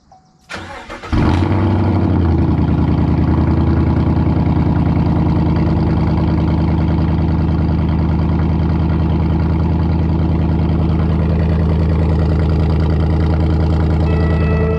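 A truck engine cranks briefly and catches, then settles into a loud, steady close-up idle and running drone that holds unchanged to the end.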